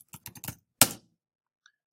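A short burst of typing on a computer keyboard while a file name is entered: several quick clustered keystrokes, then one sharper louder clack, and a faint click near the end, with no talk.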